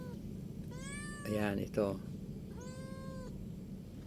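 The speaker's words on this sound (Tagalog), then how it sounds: "May nag-iingay ditong pusa ng anak kasi." Cat meowing near ornamental plants, two drawn-out meows a second or so apart, fairly close, with a person speaking briefly between them over a low background hum.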